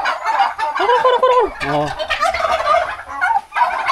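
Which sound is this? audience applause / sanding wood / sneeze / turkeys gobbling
turkeys gobbling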